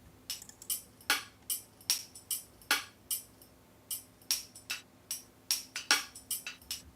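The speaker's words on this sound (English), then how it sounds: "I took a lot of the mellow keys sounds and put them into one" Sampler loop built from mellow keys sounds, heard as a steady rhythmic pattern of short, bright percussive hits with sharp attacks and quick decays, repeating evenly at moderate volume with no voices.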